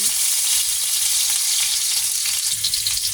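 Potatoes and carrots fry in hot oil in a pan for a beef caldereta, giving a steady, loud, dense sizzle with no pauses and no talking.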